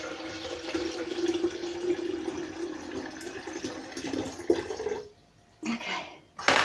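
Filtered rain-tank water is poured from a jug into a kettle in a steady splashing trickle that cuts off near the end, followed by a brief clatter.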